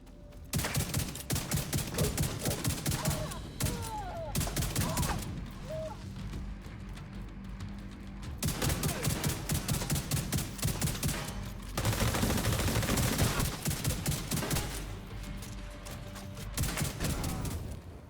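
Shotgun fire in the video game The Division 2 comes as repeated loud blasts in clustered volleys, mixed with impacts and game action noise across the whole stretch.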